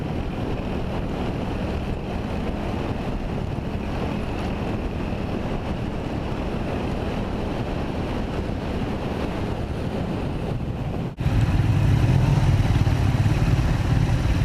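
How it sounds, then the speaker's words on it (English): Ferry crossing to Cat Ba island in Vietnam, with steady engine drone, wind rush across the microphone and water noise continuing throughout, becoming louder and rougher near the end. "The ferry to Katba was painfully slow"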